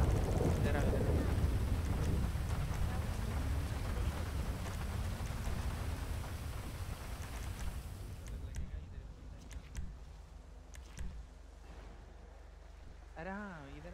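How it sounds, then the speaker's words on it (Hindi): Rain falling during a video game roleplay session, a continuous broad wash of downpour that grows quieter toward the end as scattered faint clicks and a brief wavering tone appear. "बारिश क्या मस्त हो रही है"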